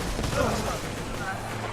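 Gunfire and cannon shots in Borderlands 2, a dense continuous barrage of game combat noise lasting throughout, with a voice partly audible underneath.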